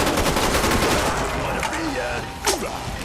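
Rapid AK rifle fire in a zombies video game, a loud, dense burst of repeated shots at the start that fades into game effects with a sharp blast near the end.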